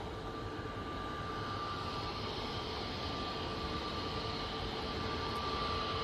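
An airliner from Orlando touching down at Manchester Airport with only light reverse thrust, a steady, fairly distant engine rumble and thin whine that builds slightly toward the end.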